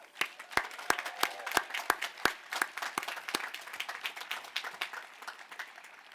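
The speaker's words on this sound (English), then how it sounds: "I'd like a big round of applause for your family and friends who made it possible for you to be here." Applause at a Washington and Lee School of Law commencement ceremony, an audience clapping with scattered sharp claps over a softer, steady patter that slowly thins out.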